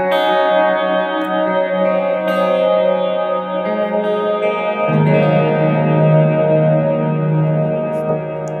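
An electric guitar plays through a TC Electronic Hall of Fame II reverb pedal, sustaining loud, ringing chords that shift partway through and decay into a long, smooth wash of reverb, with no voices.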